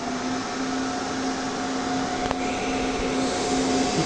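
The internal cooling fan of a 5kW inverter running steadily, a constant whooshing hum with a faint tonal whine and one brief click midway.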